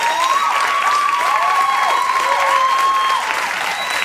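Sustained applause from a late-night talk show studio audience, loud and unbroken, with cheering and whoops mixed into the clapping for the full stretch.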